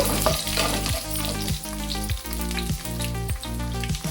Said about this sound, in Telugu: ఇప్పుడు ఏడెనిమిది ఎల్లుల్లిపాయ రెబ్బలు వేస్తున్నాను కొంచెం కొట్టి వేశాను